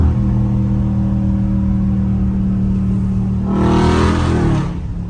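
Catless Dodge Scat Pack on the road: a loud, rumbling exhaust drone, then a brief rising rev blip on the downshift near the end before it settles back.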